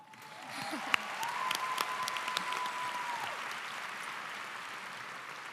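Audience applause fills a high school commencement ceremony, building quickly into a broad sustained wave of clapping with scattered sharp claps, a long whistle-like tone and faint voices in the crowd.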